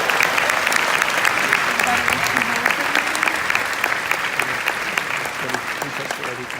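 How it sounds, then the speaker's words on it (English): Sustained, dense audience applause for Caitlin at a Scentsy Family Reunion show with Vinh Giang, loud and steady from start to finish with faint crowd noise mixed in. "Big round of applause for Caitlin."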